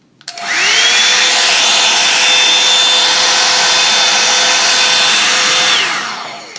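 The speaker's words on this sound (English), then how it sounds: "And here's what high sounds like." Revlon Salon One-Step Hair Dryer and Volumizer switched to high: a loud, close, continuous rushing blow with a rising motor whine that spins up, holds steady for about five seconds, then winds down.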